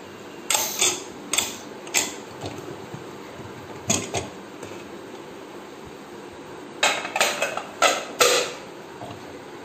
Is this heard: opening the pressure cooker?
yes